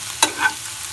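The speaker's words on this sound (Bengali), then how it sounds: "সুন্দর করে ভাজা ভাজা করে নিচ্ছি" Food being fried until crisp and well browned in a pan in a home kitchen, with a single sharp stirring scrape followed by a soft, brief sizzle.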